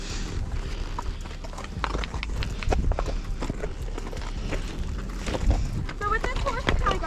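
Horse hooves clop on desert ground during a ride, irregular thuds and scuffs close by, with wind and handling noise throughout.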